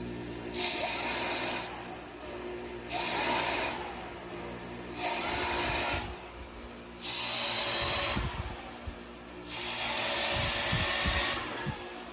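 Rebuilt car turbocharger from a tuned 2000cc engine, spun on its bearings, giving a smooth whooshing hiss that swells and fades in five repeated bursts with brief quieter gaps between, close and steady, no talk.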